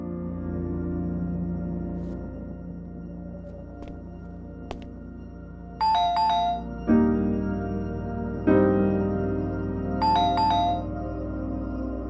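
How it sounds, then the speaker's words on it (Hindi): A phone ringtone plays loudly with a repeating electronic melody in bursts, ringing several times without any talk over it. "बॉस का फोन आ रहा है।"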